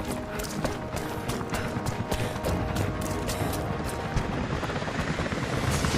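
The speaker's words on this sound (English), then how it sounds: "Jacob, helicopters are headed your way." Helicopters approaching in the game Rise of the Tomb Raider, a dense rhythmic rotor thumping that stays steady and fairly loud throughout, with no clear talk.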